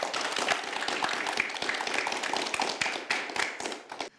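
A small audience claps at a talk, distinct individual hand claps ringing out in a brisk, uneven patter rather than a dense roar, fading out at the close.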